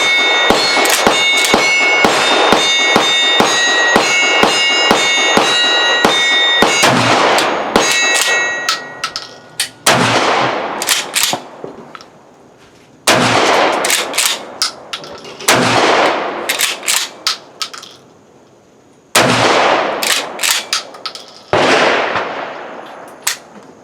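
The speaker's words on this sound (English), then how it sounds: "TX3, 12 gauge, and it's kind of like the old trench guns and stuff. But I got it loaded up with 5 slugs" A Tokarev TX3 12 gauge pump shotgun in trench-gun style fires slugs, sharp loud blasts ringing out one after another, each shot trailing into a metallic echoing clang, heard without talk.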